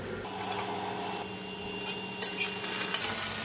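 Okra sautéing in a pan over a low flame while being stirred, with a soft continuous sizzle, light scraping of a utensil and a few clinks against the pan toward the end.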